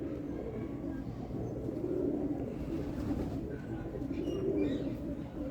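A pigeon coos in low, rolling phrases that repeat through the stretch, close and moderately loud, with faint chirps and a murmur of background noise.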